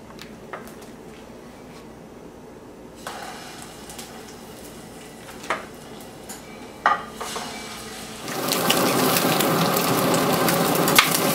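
Beef shank goes into hot butter in a pan, with soft clinks and stirring that give way to a loud, steady sizzle near the end.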